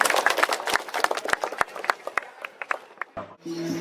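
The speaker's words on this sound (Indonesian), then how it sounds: "Satu, langsung tepuk tangan." Audience applause at an outdoor church blessing ceremony as an official opens the roof, a scattered, uneven round of clapping that thins toward the end, where a voice starts speaking.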